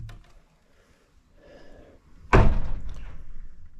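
The wooden door of an old mud-chinked hut swings on its latch and lands with a sudden heavy thunk, followed by a rattling, scraping tail after faint quiet rustles.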